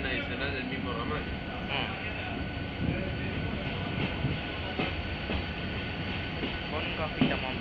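A train on the Haedo-Temperley branch line rolls past as a loud, steady rumble with wheel clatter, close by, while people talk over it.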